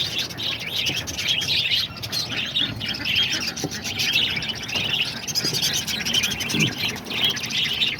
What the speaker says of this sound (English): this is my English budgie right here, my original male